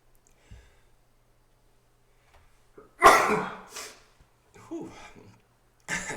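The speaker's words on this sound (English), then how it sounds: "I'm gonna sneeze." One person's sneeze bursts out loudly after a quiet stretch, followed by a short exhale and soft voice sounds.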